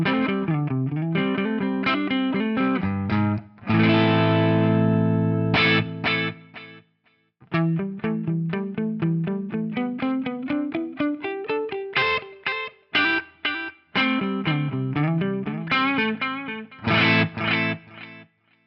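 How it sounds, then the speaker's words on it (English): Les Paul Custom electric guitar on the neck pickup, played through a VP4 digital mono delay, with a distorted lead line of quick picked notes and held bends, a brief pause midway, then repeating echoes trailing the phrases. "We will hear the VP4 bypassed, and then I'm just going to kick in this delay block."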